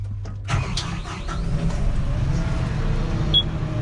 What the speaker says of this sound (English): I'll just start the tractor up